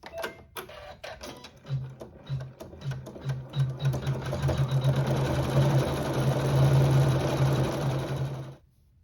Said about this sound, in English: I'm using a thread that contrasts that fabric to sew my quilting